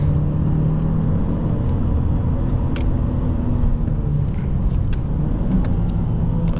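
Alfa Romeo 159 1.9 JTS driving and accelerating from inside the cabin, a steady loud engine drone with road rumble throughout and a brief click partway through, no talking.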